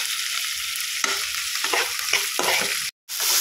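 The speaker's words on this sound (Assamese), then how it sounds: "এতিয়া মই অকণমান দেৰি কাৰণে ভাজি ল'ম" Paneer pieces fry in hot refined oil in a pan, a loud continuous sizzle with scraping stir strokes breaking through, close up and without talk.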